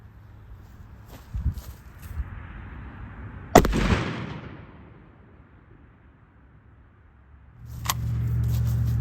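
A single loud, sharp blast from a Mossberg 940 Pro Tactical shotgun firing a slug outdoors, with a booming decay after a few quiet seconds of faint movement, followed by a steady rumble.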